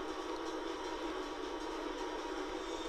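A fast-moving train roars steadily in Sonic Heroes' Rail Canyon and Bullet Station stages, a dense, continuous rushing rumble with no break, fairly quiet overall and with no talking.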